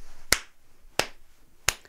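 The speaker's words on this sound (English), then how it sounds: "I can't help but clap for that" Three sharp, isolated hand claps from a single person, spaced evenly about two-thirds of a second apart, crisp and fairly close with quiet room tone between them.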